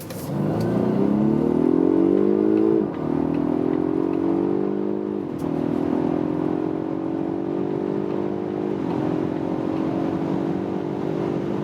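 A Polestar 1 plug-in hybrid with 1000 Nm of torque accelerates hard from a 30 km/h rolling start, its engine rising loud and steady with distinct drops at each gear change as it climbs toward 200 km/h.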